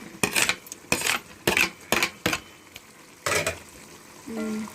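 A spoon clatters against a pan as chicken curry with tomatoes is stirred, giving several sharp, close scraping strikes in an irregular rhythm, followed by a softer sizzling simmer.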